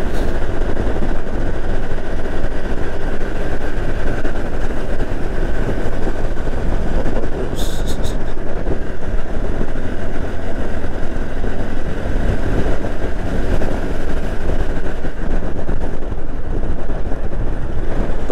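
LRT trains pass each other near Pancoran, heard from a moving motorcycle as a loud, continuous rumble and rail roar that fills the whole stretch, with a brief metallic squeal midway.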